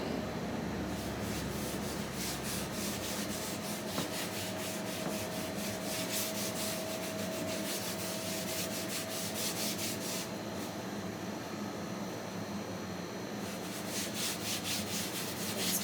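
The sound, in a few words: rubbing wood stain onto wood with an old sheet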